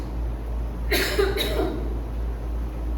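A brief pair of dry coughs from a woman with a dry throat, close to the microphone and set against a steady low hum.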